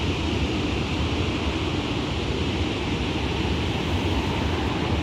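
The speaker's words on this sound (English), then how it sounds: "Look at those waves." Ocean surf on the coast at Bandon, Oregon makes a continuous, even roar of breaking waves mixed with wind, with no voices.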